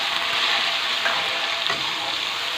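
Goat liver masala base of onion paste frying in hot oil, a steady close sizzle with faint stirring scrapes, no voices.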